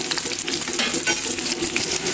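Poa fish cooking in a pan with leafy greens, dill and green chillies, a steady close sizzle with scattered clicks and scrapes running throughout, no voices.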